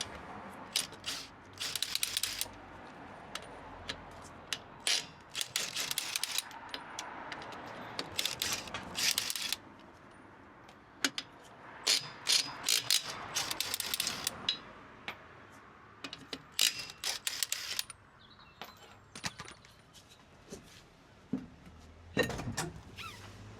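Ratchet loosening the wheel nuts on a car with failing brakes, bursts of quick clicking spread across the clip with short pauses between them, close and fairly quiet.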